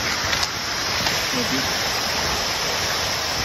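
A waterfall, Lauke Jharana, beside a hiking trail near Kathmandu, gives a constant broadband rush of falling water. The sound is steady and even throughout, with a few faint knocks near the start.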